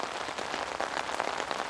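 Heavy rainstorm pouring down in Belgrade, Serbia: a dense, steady hiss of raindrops hitting surfaces close by, with no talk.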